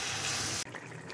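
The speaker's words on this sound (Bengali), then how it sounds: "পানি দিয়ে দেব পরিমাণ মতো।" Water pours into a pan of fish curry with tomato, a brief close gush that cuts off sharply partway through.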